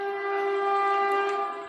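A passing train sounds a long, steady horn blast nearby, loud and unbroken for the whole moment before easing slightly at the end.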